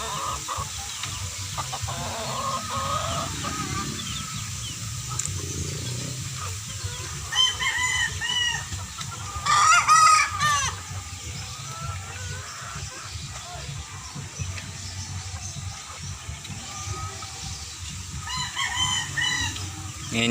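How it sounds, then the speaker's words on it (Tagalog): A young rooster at a small backyard poultry yard with hens and chicks gives short, cracking crows that break off unevenly, heard amid ongoing clucking and farm background noise. "Medyo piyok-piyok pa yung tilaok niya,"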